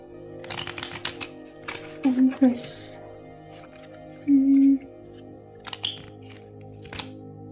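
Tarot cards shuffling and slipping during a reading, giving soft papery riffles and brief slides in several short bursts, with a voice talking at times in between.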